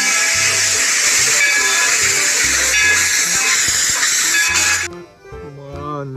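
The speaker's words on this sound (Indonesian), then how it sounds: "Wow, kereta api." A toy train gives a loud, continuous steam whistle with a hissing blast that holds for about five seconds and then stops. A brief spoken voice follows.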